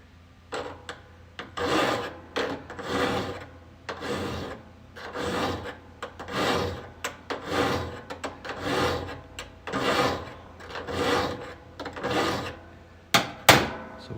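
A hand file rasping across a hedge trimmer blade in steady one-way strokes, about a dozen close, even scrapes with short pauses between them and a brief sharper knock near the end.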